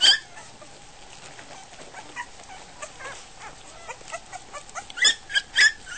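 Goldendoodle puppies crowd in to feed at dinner time, giving off faint high whimpers and yips over a soft background, then a few sharper, louder squeals near the end.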